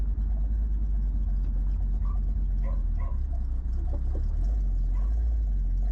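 Modified engine of a 1976 Ford Ranchero 500 idling with a steady low rumble close by throughout, joined by faint dog barks in the background.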